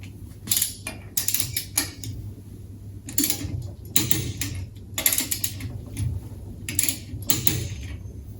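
Superbolt load-sensing tensioner jack bolts tightened crosswise with a torque wrench to 130 newton meters, giving repeated sharp ratcheting clicks in short bursts, close and fairly quiet, with pauses between sets.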